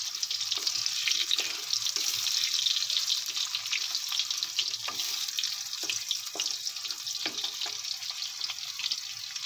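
Potatoes frying in a pan for a Bengali vegetarian dish, giving a steady bright hiss with small crackles and pops throughout, fairly close and continuous, with no talking.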